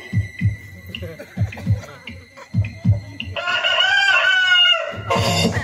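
A rooster-like crow rises in a long, wavering call during a Bengali gajon folk play, after a series of heavy rhythmic thumps, loud and close.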